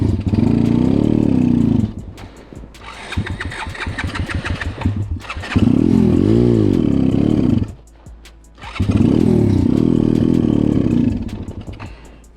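A motorcycle engine close and loud, repeatedly starting and running rough, dropping out and restarting in bursts of roaring idle and revving separated by brief gaps.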